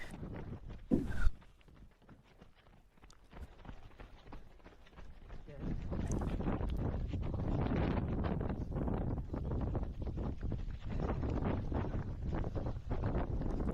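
Gusty wind buffeting a microphone as a trail runner pushes into a headwind, a rough, fluctuating roar that swells and stays loud after a quieter start, with talking over it.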